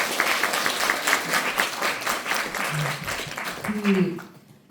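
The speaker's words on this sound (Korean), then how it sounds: "그 그로테스크한 모습을 다 이제 견디신 두 분께 이제 박수를 보내주세요." An audience at a book talk on law gives sustained applause, dense clapping that holds steady before tapering off at the end, with a voice briefly heard beneath it.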